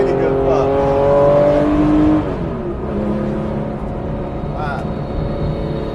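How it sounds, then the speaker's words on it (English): A Magnus Walker Porsche 964 911 engine pulls hard through the hills, revving loudly up through the gears and then dropping to a lower drone after a shift, recorded from inside the car. "It feels so ridiculously glamorous driving a car like this through the hills."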